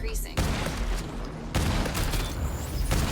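Grenade blasts in the video game Off the Grid come as loud, booming broadband bursts, two sharp onsets in quick succession over dense gunfire-like noise, with voices partly audible beneath.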